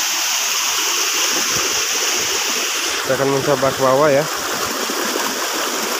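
Rushing water from the Ci Koning waterfall and its stream near Bogor, a steady broadband roar that runs through the whole stretch, with someone briefly speaking over it midway.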